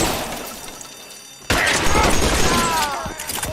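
Shotgun fire in a video game erupts as a sudden loud blast after a quieter stretch, followed by sustained crackling, rattling gunfire and debris noise.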